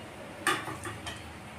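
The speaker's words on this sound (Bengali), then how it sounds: "এবার ভেজে রাখা আলুগুলো দিয়ে দেবো।" Fried potatoes tipped into a cooking pan with cabbage, a quick metallic clatter and a couple of lighter knocks against the pan in close succession, brief and close, with no talking.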